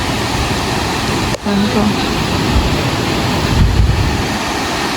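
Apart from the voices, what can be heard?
stream flowing under Kakawayan bridge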